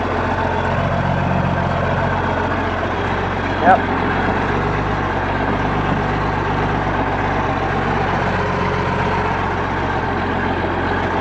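A John Deere 4630 tractor engine runs steadily at a farm, a constant low idle-like drone with harmonic hum throughout, one short brief voice heard partway through.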